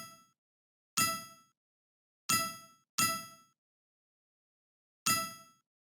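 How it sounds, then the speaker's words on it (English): Four bright, short chime dings from a chase game's collect sound, played when a robot touches a star, ring out with silent gaps between them, each decaying quickly. "So basically it should play the collect sound."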